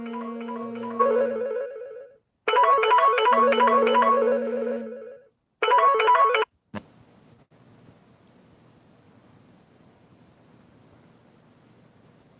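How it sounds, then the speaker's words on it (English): A phone ringtone plays in repeated melodic bursts, loud and close, with short gaps between rings, then cuts off and leaves quiet room noise. "That was my phone ringing"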